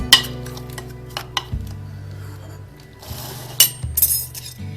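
Baking powder being mixed into gulab jamun dough made with milk powder in a bowl, with repeated clinks and taps of a utensil against the bowl over a low steady hum, close and fairly loud.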